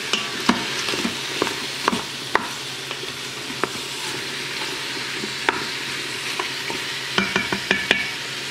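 Onion, green pepper and celery stirred and scraped in the pot of an Instant Pot, a soft steady sizzle topped with scattered sharp clicks and scrapes of the utensil against the bottom, close and without talk.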